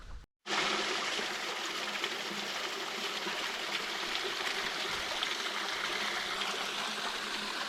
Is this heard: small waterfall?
yes